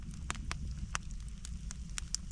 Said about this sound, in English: You just hear the fire crackling.